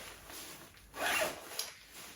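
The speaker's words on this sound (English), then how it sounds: "And we'll zip that up" A running race pack for an ultramarathon being zipped up: one quick rasping zip pull up close, with a short tug at the end, in a quiet room.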